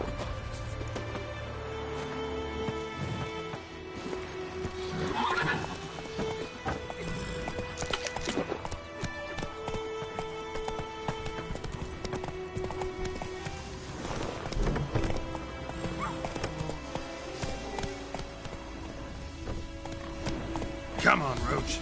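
Roach the horse from The Witcher 3 clip-clops steadily at a run and gives several neighs and whinnies, with someone talking now and then over the hoofbeats.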